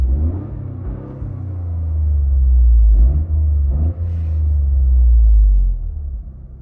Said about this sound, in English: Got a little exhaust clip from inside the car.